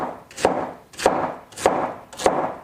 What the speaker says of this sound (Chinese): 我们准备1个白萝卜，切成大小均匀的块就可以了